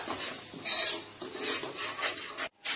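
Beef roast with pepper powder stirred in a pan: a close scraping and rasping of a spatula against metal in uneven strokes, soft sizzle beneath, with a brief pause near the end.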